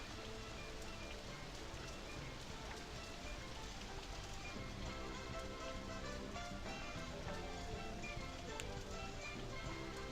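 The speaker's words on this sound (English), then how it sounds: "Unfortunately, it's raining, so it's it's going to look really bad." Steady rain in the video game RollerCoaster Tycoon 3, hissing and pattering throughout, dense and even with no pauses, with faint scattered drip-like taps in the wash.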